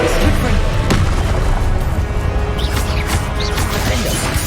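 A Confringo blast spell exploding in the Hogwarts Legacy video game: loud booming crashes and bursts, with one sharp impact early on, over a dense, rumbling game soundscape.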